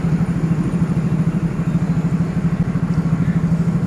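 A small motorcycle engine idles and chugs steadily close by with a rhythmic low throb as the rider prepares to set off, no talk over it.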